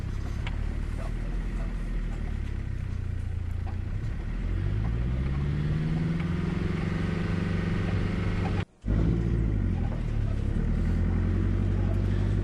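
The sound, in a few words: 4WD vehicle driving on muddy track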